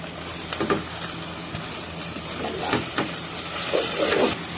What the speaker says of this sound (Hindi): अब हम कीमे को अच्छी तरह से भूनेंगे।